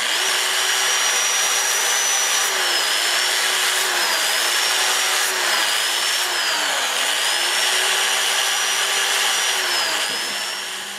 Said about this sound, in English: I'm going to start on these wings out here and just hold the piece and sand it like this.